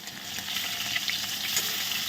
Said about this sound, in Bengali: তেলের মধ্যে কালো জিরে দিয়ে ইলিশ মাছটা দিয়ে দিলাম। ইলিশ মাছটা কিন্তু খুব বেশি ভাজা যাবে না, একদম জাস্ট হালকা করে 1 মিনিট ভেজে নেব